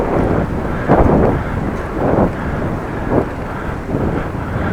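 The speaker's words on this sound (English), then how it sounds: "When the wind blows, you hear it through the trees, you hear it in your ears." Gusty wind rushing past the microphone while cycling through open countryside with trees nearby, a steady roar that swells in several loud gusts roughly every second, no voices.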